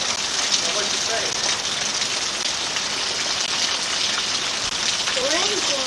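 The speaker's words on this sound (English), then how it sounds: "The rain's doing a lot of damage too." Heavy rain falls steadily after a 1989 tornado, a dense, even hiss that fills the whole stretch, with faint voices mixed in underneath.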